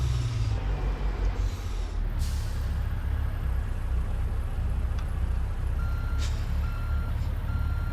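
A truck backs a trailer in American Truck Simulator, its engine rumbling loudly and steadily under regular reversing beeps, with a brief air-brake hiss near the start and no talking.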